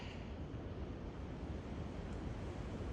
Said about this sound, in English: And the wind is whipping.